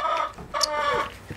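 A rooster clucks and calls nearby in a few short, throaty bursts, loud and alone with no voices.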